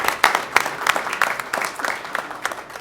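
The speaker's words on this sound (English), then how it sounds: "you can give her applause" An audience at a college board of trustees meeting gives a few seconds of steady, moderately loud clapping in an indoor room. No one speaks over it.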